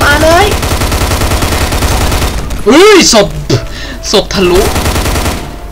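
Gunfire in the video game Hunt Down The Freeman, rapid bursts rattling loudly through the scene while someone speaks and exclaims over it.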